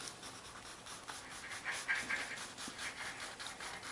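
Faint, soft rubbing and scratching while marks are erased from a paper bead pattern, a quiet continuous friction with gentle strokes and no talking.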